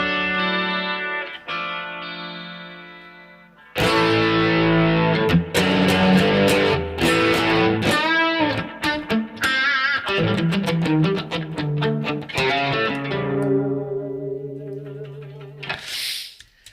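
Electric guitar played through layered effects, with distortion, chorus and echo shimmering over a mix of sustained chords and picked notes.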